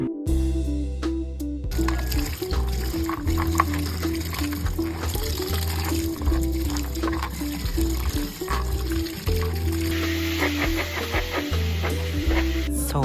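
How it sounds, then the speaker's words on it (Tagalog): Water runs from a sink tap while vegetables are washed, with a steady close splashing and trickling that shifts slightly as the flow hits the produce, continuing for several seconds without talk. "Niadto na din kog lababo kay para hugasan ang utan."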